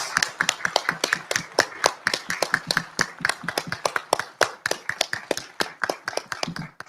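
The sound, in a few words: audience applause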